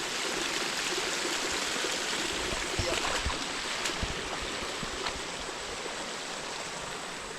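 Irrigation water overflowing a rice paddy bank and running steadily across the field, a continuous rushing stream-like flow with no talking.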